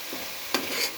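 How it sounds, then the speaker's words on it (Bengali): Onion and garlic sautéing in a pan for chicken korma: a faint, steady sizzle with one short stir or scrape in the middle, and no voices. "কথায় কথায় আমার পেঁয়াজ রসুনটা একটু কষানো হয়ে গেছে।"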